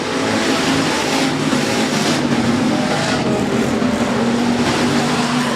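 USRA Hobby Stock race cars roar around the dirt oval at Rapid Speedway on the final lap of a B feature, a steady, loud blend of engines holding close and constant throughout.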